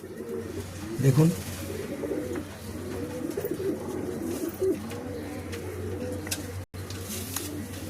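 Pigeons coo in a loft, repeated low rolling calls close by, with a brief burst of louder cooing early on, and someone talks briefly over the birds.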